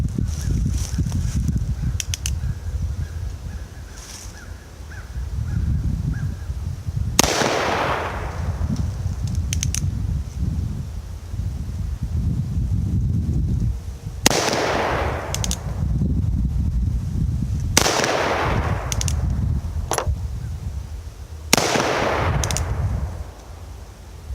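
Four loud gunshots from a Virginia Dragoon .44 Magnum revolver fired at targets about 10 yards away, each a sharp crack spaced several seconds apart over steady outdoor background noise.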